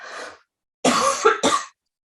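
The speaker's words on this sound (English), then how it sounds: "Excuse me, I'm going to cough." A faint breathy sound, then a pause followed by a loud, close cough in two harsh bursts.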